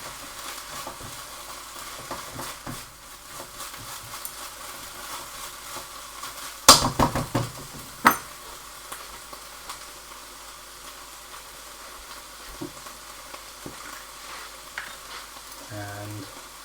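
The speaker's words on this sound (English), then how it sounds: "Give that a stir around so it's nice and even." Thai pork stir fry sizzles steadily in a pan while being stirred, with a few louder scrapes and clatters of the utensil partway through, close and fairly quiet overall.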